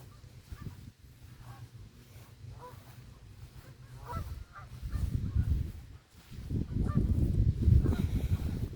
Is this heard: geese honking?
yes